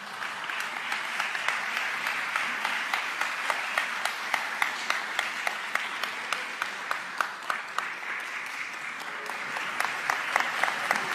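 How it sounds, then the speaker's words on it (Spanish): A ceremony audience gives strong, steady applause as a doctor receives a medal from a congresswoman, with continuous clapping and sharper individual claps standing out throughout. "Fuertes aplausos."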